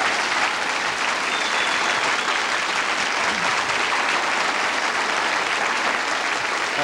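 Sustained, dense audience applause at a town meeting welcoming a Seattle police sergeant, steady and loud throughout with no talk over it.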